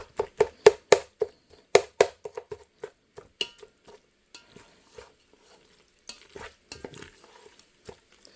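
Repeated scraping and tapping of a utensil stirring baked feta and pasta in a Ninja Foodi pan, quick irregular strokes that thin out and slow toward the end, close and clear.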